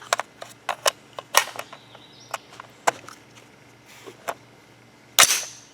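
Sharp cracking reports from a 300 Blackout rifle firing test loads, several spaced shots and clicks over a few seconds, heard at some distance outdoors, ending in one louder close blast.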